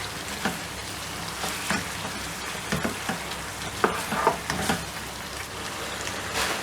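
Chicken coated in ginger paste sizzles in a karahi, giving a steady frying hiss broken by occasional sharper stirring scrapes and pops, close and moderately loud with no voices.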